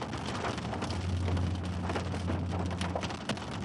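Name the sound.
hailstones falling during a severe storm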